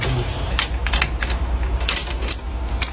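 A pipe fitting snaps and clicks into place during heat pump installation, giving a series of sharp close mechanical clicks over a low steady hum.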